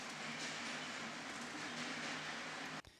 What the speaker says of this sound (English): I found this cool kind of underground atmosphere recording that sounds like this